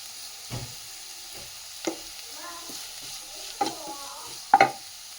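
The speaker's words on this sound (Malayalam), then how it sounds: "ഇഞ്ചി, വെളുത്തുള്ളി, പച്ചമുളക് ചതച്ചത് ചേർത്ത് കൊടുക്കാം. ഒന്ന് ഇളക്കി കൊടുക്കാം." Crushed ginger, garlic and green chili frying in a pan while being stirred for tomato rice, with faint sizzling and several distinct spatula scrapes and knocks spread across the stretch, the last one loudest.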